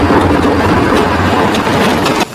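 A manual rail cart rolls along a railway track in a film scene, giving a loud, close rumbling clatter with low mechanical drone and rhythmic clicks that cuts off abruptly near the end.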